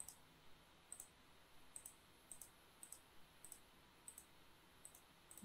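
Computer mouse clicking while working in Photoshop, sharp quiet clicks repeating at a steady uneven pace, close and alone over a faint hiss.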